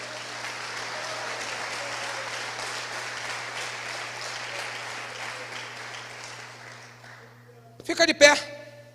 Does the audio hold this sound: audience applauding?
yes